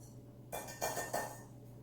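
Quick whisking of baking powder into dry ingredients for cookies, a short burst of light clinking and scraping strokes against a bowl, close and fairly quiet, then fading out.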